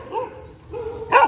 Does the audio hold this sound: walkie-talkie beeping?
no